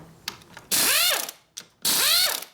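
Ratchet socket wrench clicking as it loosens a transmission bolt on a Harley Sportster XL bobber, with two loud bursts of rapid pawl clicks separated by brief quieter taps, close up with no talking.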